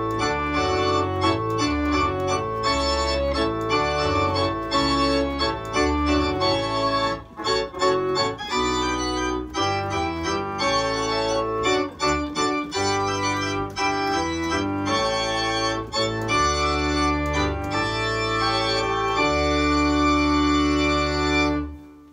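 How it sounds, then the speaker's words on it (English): A hornpipe from Handel's Water Music plays as wedding music, loud and continuous with a brisk, steady rhythm and full harmony, and no voices. "that's a hornpipe from Handel's Water Music"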